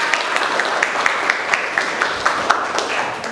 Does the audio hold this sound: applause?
yes